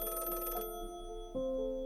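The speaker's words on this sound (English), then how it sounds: "Around 3:30 p.m., Miriam Sankara calls him on the phone." A telephone rings twice in short electronic bursts, a loud warbling tone, a pause, then a second, lower ring, with no one speaking.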